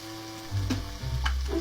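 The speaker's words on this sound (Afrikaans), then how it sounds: "nou gaan ek net hierdie lekker braai" Tomato sauce frying in a white pot for marry me chicken, a soft crackling sizzle with a few stirring scrapes and thuds, close and moderately quiet.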